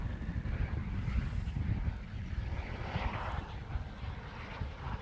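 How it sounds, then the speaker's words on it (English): A Boeing C-17 military transport aircraft flies overhead near Honolulu airport in Hawaii, giving a continuous low jet rumble with a swelling mid-range roar, heard at a moderate distance. "Oh, C-17 inbound."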